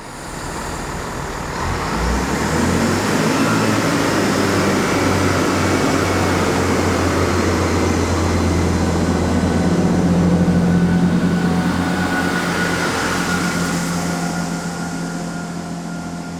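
A heavy train rumbles steadily nearby with a low engine drone, loud and continuous, rising slightly in the middle as it pulls away from Reading Green Park station.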